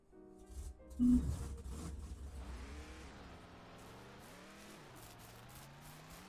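Car engine in the video game Ranch Simulator, a short rev burst followed by a steady driving hum with rising and falling pitch, moderately faint.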